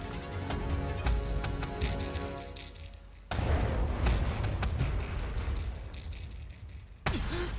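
Cannon artillery in the Attack on Titan anime booms into a sustained roaring rumble, loud and close, with a sharp new blast breaking in near the end.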